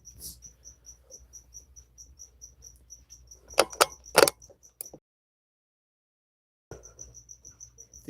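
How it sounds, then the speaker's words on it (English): Crickets chirp in quick, regular pulses, close and clear, alongside a few louder clicking knocks in the middle before a short silence and the chirping returns. "They are crickets."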